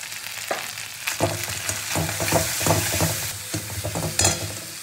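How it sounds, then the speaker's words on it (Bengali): Spice paste with salt and turmeric fries and is stirred in a pan for a malai prawn curry, giving a steady close sizzle broken by repeated scraping strokes of a spatula, with no voices. "মশলা কষাতে আমি দিয়ে দেবো পরিমাণ মতো নুন আর দেবো পরিমাণ মতো হলুদ।"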